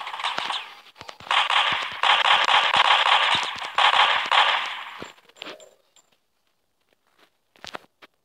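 Rapid automatic gunfire from a shooting video game rattles in dense bursts for about five seconds, then cuts out, leaving near silence broken by a few faint clicks and a short final burst.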